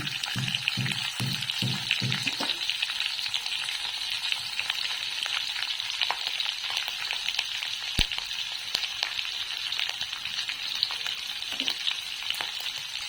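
Curry leaves, green chillies and a pinch of asafoetida crackle in hot oil for Malvani poha, a dense continuous sizzle with a few spatula scrapes early on and a sharp pop near the middle; no talking.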